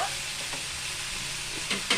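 Continuous sizzling in a hot pan with a few soft scrapes as aubergine and ivy gourd are stirred for chutney, close up and with no voices.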